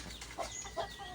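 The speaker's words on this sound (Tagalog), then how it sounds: "Meron tayong mga manok." Chickens clucking in a rural provincial yard, a few soft short clucks spaced apart over quiet background.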